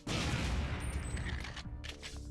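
Rapid gunfire bursts from the Perfect Dark Kai video game, a dense clattering volley of shots with a short pause before another burst, loud and continuous with no talking.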